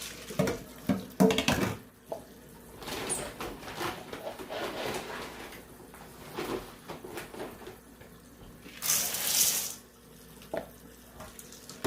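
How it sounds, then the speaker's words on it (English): Dusty, starchy cow corn is rinsed under a running tap at a sink before mushroom inoculation. Water flows and splashes steadily, with a few louder gushes and rattles of the grain, close at hand. "I'm just going to get it washed off, rinsed off before we move on to the next step"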